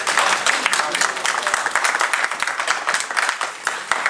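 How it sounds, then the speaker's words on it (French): Audience applauding a minister at an evening event, brisk overlapping claps from a moderate crowd with some voices underneath. "On va l'applaudir parce que c'est une bonne travail."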